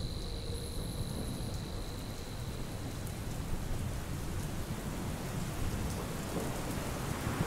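Steady night rain falls with rolling thunder in a Bengali horror audio story, a dense, even patter close by and low rumbles underneath, plus a faint insect-like whine early on, with no voices.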